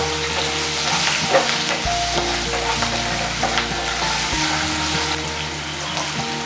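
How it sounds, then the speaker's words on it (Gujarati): Chillies and salt being mixed for sambharo in a pan, with a steady stirring and sizzling texture throughout and occasional light clinks, close and moderately loud with no talking. "બધું મિક્સ કરી લઈએ"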